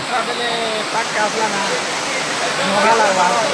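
Steady rain pours down at an outdoor village drama stage setup, a dense continuous hiss throughout, with people talking over it.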